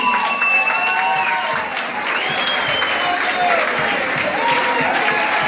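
An audience applauds a music group with a cellist, producing steady, fairly loud clapping throughout, while voices and tonal sounds carry over the top of it.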